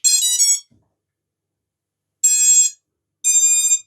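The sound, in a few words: beeping from FPV drone flight controller after powering on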